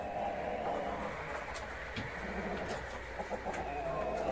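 Chickens being moved up onto a roost give faint, intermittent clucks and squawks over a steady background noise.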